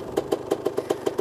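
An old 1985 Honda CR250R dirt bike ticks over at idle close up, a brief run of regular, punchy exhaust beats repeating evenly.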